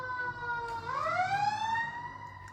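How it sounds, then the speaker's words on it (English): An emergency vehicle siren on the streets of Wausau, wailing up and down in pitch from a moderate distance, heard alone without talk. "Another siren."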